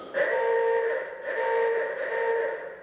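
A Wurlitzer theatre organ submarine dive horn effect blasts twice in a row, loud and reedy, each a sustained buzzing tone with a brief break between, resembling a submarine dive klaxon.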